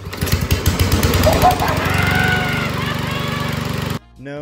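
Lawn mower engine running with a loud, rapid, rough mechanical chatter and buzzing drone for about four seconds, then cutting off abruptly into near quiet with a brief different sound at the end.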